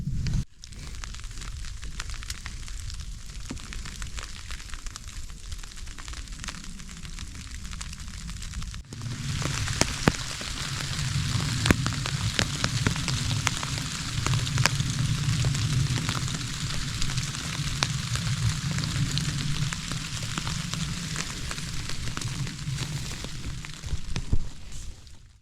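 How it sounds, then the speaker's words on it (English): Steady rain falls on a creek campsite, a dense even hiss that grows fuller partway through, with crackling from a campfire and scattered sharp pops throughout. "just gonna listen to this rain and drift off to dream"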